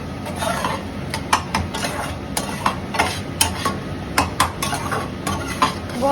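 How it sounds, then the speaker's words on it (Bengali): Masala spice paste stir-fried in a pan, a spatula scraping and clinking against the metal in irregular strokes over a low steady sizzle, close and without talk. "এবার মশলাটা কষাবো।"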